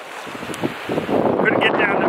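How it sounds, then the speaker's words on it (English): Strong coastal wind buffets the microphone during a rainy storm in Rhode Island, a steady roar of gusts with rushing air noise and a faint voice partly buried underneath. "It's a bit windy and rainy."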